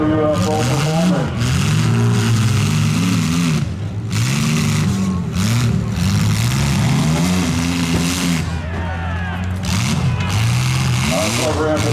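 A midsize car engine revs hard at a demolition derby, loud and continuous with rising and falling pitch sweeps as cars push and climb, with other engines droning underneath throughout.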